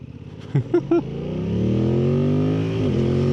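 A 2025 Yamaha MT-07 with automated Y-AMT transmission pulls away from a stop, its engine note rising smoothly as it accelerates nearby, with a brief dip around a gear change and a few short knocks early on.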